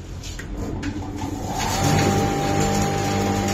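A pulse-processing machine with an amps meter and gold regulator starts up, its motor humming loudly and steadily, the whir rising and settling into a constant drone.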